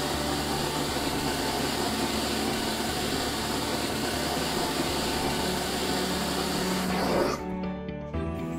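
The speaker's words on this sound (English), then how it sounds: "messy whisker debris are all whisked away by the vacuum stream" A DrawerVac built-in vacuum inlet sucks up debris with a loud, steady broadband whoosh of airflow that holds for about seven seconds, then cuts off abruptly as the motor winds down.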